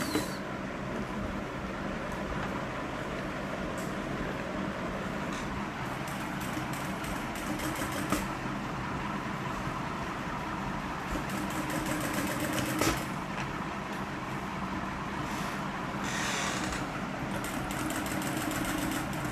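Sewing machine stitching thick Aso Oke fabric during garment construction, a steady continuous motor whir with needle chatter running close and even throughout, with no talk.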